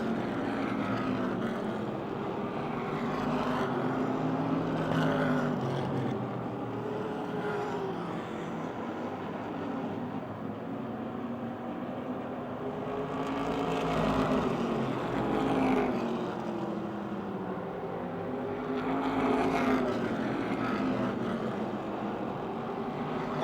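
Race cars lapping a dirt oval at Motordrome Speedway, a continuous engine roar heard from a distance that swells and fades in waves as the pack circles past.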